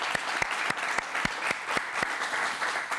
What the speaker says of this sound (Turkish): Alkışlamamız gerekiyor burada.